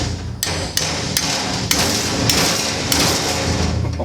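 Hammer blows pounding metal 350Z seat rails on a workbench, about eight sharp, loud strikes at an uneven pace over a steady low hum.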